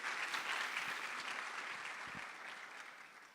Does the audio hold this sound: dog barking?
no